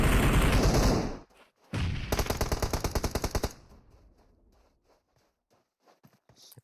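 Automatic gunfire in the video game PUBG Mobile during a competitive scrim: a sustained burst, a short pause, then a rapid rattling stream of shots that cuts off into quiet scattered ticks.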